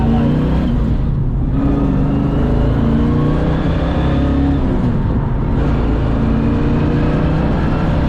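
A 1970 Chevrolet Camaro RS/SS engine hums and growls steadily at close range, a continuous low drone with slight shifts in pitch as it drives.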